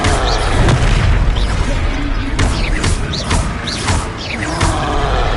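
Repeated booming blasts from the Confringo fire spell in Hogwarts Legacy on PS5, several heavy explosive bursts in a loud, dense battle mix with voices shouting over them.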